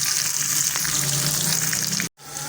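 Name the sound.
okra frying in oil in a pan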